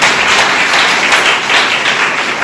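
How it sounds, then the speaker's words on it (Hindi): A church congregation claps during a pastor's sermon, a loud, dense burst of clapping heard up close, continuous and without speech. "ताली बजाइए"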